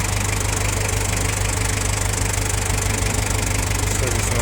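A farm tractor fitted with a front loader runs with its hydraulics working, giving a steady, loud mechanical engine hum with a throbbing, knocking undertone that holds constant from start to finish.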